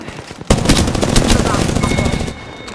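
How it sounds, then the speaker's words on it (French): Gunfire in the battle royale game Apex Legends, a rapid automatic burst that starts abruptly and rattles on for about two seconds, loud and close, then cuts off. "On me tire dessus."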